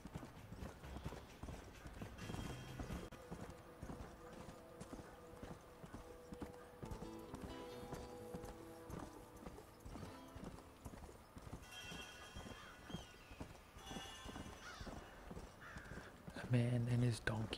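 Donkey hooves clip-clop at a steady walking rhythm in the Red Dead Redemption video game, a quiet continuous patter heard alongside soft game ambience.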